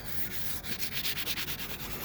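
Barnacles are sanded off a boat hull with 400 grit sandpaper in quick, rhythmic back-and-forth rasping strokes, close and fairly quiet, with no talking.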